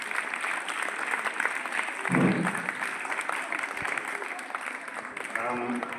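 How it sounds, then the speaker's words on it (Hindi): An audience applauds for Awadhesh sir at a school children's event, a steady mass of clapping with a voice speaking over it partway through. "जोरदार तालियां अवधेश सर के लिए।"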